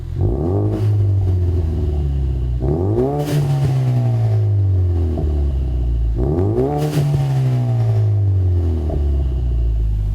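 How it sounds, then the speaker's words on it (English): A 2015–2023 Ford Mustang Fastback EcoBoost with an MBRP 3-inch Race cat-back exhaust idles with a deep, steady drone, then two sharp revs climb and fall back to idle, loud and close with no voices. "When you first fire it up at idle, you're gonna notice it's a deep tone."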